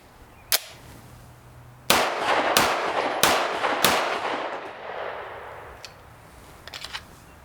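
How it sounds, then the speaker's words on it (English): A CZ Shadow 2 pistol, a race gun, is fired one-handed: about five sharp, loud shots in an uneven string, each ringing briefly, with no talking. "let's try a couple one-handed shots"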